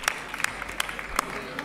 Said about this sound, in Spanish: Fuerte aplauso para todo este público